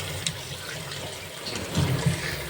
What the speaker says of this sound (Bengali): ডিপ ফ্রিজে ছিল বলে মাংসটা একটু বরফ হয়ে গেছে, তাই আমি জলে দিয়ে মাংসটাকে একটু জল নর্মাল করে নিচ্ছি